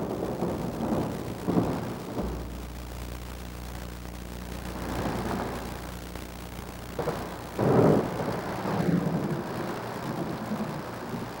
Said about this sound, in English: Accompanied by thunder and lightning, the rain begins.